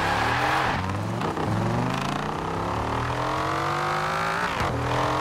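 A car engine revs loudly and continuously in Forza Horizon 4, pitch climbing through repeated gear shifts, with a racing-game roar and no talking.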